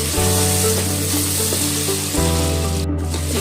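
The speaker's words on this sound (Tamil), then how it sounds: "இதையும் நல்லா இப்படி வந்து கலந்து விட்டுக்கோங்க." Tomatoes sauté in a pan for vegetable biryani, giving a steady loud sizzle with occasional stirring scrapes, while sustained tonal background music plays throughout.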